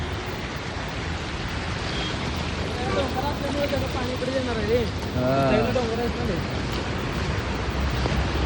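Floodwater from heavy rain rushes past in Bhuj in a loud, constant roar, with a person talking partway through.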